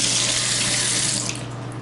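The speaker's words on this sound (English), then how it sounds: "The sink, good water pressure there, drains beautifully, nice and dry underneath." A bathroom sink faucet in an apartment runs at strong pressure with a steady, close rush of water that eases slightly toward the end.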